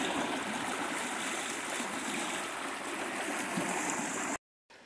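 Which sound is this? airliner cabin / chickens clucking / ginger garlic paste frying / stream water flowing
stream water flowing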